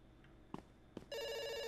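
In the video game Dr. Langeskov, The Tiger, and the Terribly Cursed Emerald, a telephone bell starts ringing loudly and continuously after two soft clicks, heard close and alone.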